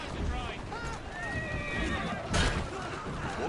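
A horse whinnies in a long wavering neigh, with hooves clip-clopping close by and someone speaking gently to it over street noise.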